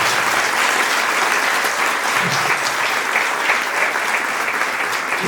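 A church congregation applauds loudly, with a steady, dense clapping that continues for several seconds without letting up.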